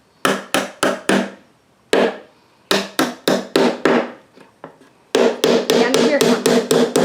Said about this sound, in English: No, hold the hammer right.